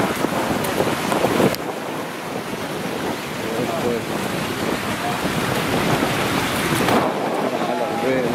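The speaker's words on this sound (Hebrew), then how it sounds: "נחל ארבל זורם," The Arbel stream in the Galilee, running high with lots of water, produces a loud, steady rushing roar that fills the whole stretch, with no clear talk above it.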